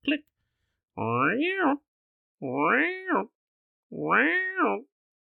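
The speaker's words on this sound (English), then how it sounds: "It sounds like a cat for the alarm part" Three separate electronic cat meow sounds, each a rising and falling whine about a second long, evenly spaced with silence between them.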